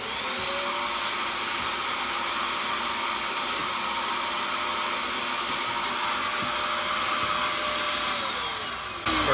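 A Bissell Spotclean PetPRO portable carpet cleaner runs on a hard floor, its motor a loud, steady whine with suction hiss as it draws up dirty cleaning solution, continuous and close throughout.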